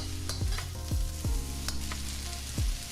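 Vegetables sizzling in a hot stir-fry pan as they sweat and char, a steady close frying hiss broken by several scraping stirs of the utensil, with no voices.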